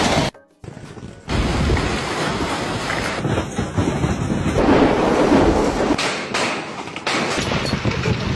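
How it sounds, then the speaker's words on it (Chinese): Large hailstones pelting down in a violent storm, making a dense, loud, continuous roar of impacts that keeps up steadily after a brief quiet start. "这么大的冰雹，你的头能接几个？"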